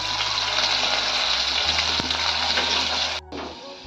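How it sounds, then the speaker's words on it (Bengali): Potatoes frying in hot oil, a steady loud sizzle with a brief scrape midway, then the sizzle drops back more quietly at the end; no talk. "এবারে আলু ভেজে নিচ্ছি"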